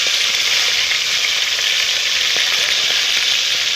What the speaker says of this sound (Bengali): কড়াটা গরম গেছে কাঁকড়াগুলো ভেজে নিচ্ছি